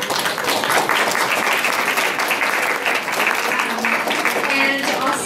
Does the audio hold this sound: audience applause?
yes